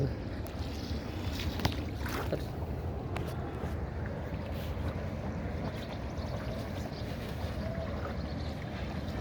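Low rumble of water and wind around a small rowing boat on the Mahanpur River, with a few faint knocks and splashes throughout.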